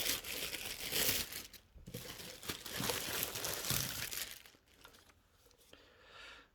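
Packaging on a boxed Philips Daily Collection HD9350/90 kettle crinkles and tears in close, irregular bursts of rustling plastic and cardboard, fading to quieter handling near the end.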